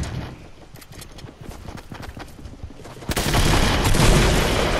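Gunfire and grenade blasts in a shooter video game, scattered sharp shots that give way to a loud, sustained explosive roar near the end, with no talk.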